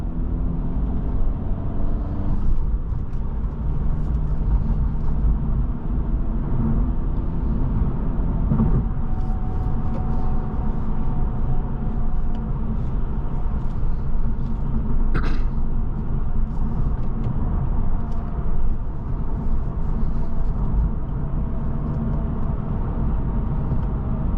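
A 2023 Acura Integra A-Spec with a 6-speed manual gearbox drives steadily on an evening road, its engine and road noise a constant loud rumble throughout with no talking.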